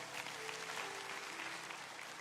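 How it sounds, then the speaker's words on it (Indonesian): Church congregation applauding together, a steady dense wash of clapping that fills the space for a couple of seconds with no speech over it. "Kasih tepuk tangan untuk orang-orang sekeliling Anda."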